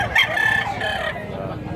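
A rooster crows at a chicken market in Mantalungon, Cebu, a loud, close, drawn-out call with a wavering pitch, heard over low background bustle and murmuring.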